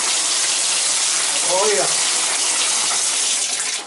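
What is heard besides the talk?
water running from leaking tub shower valve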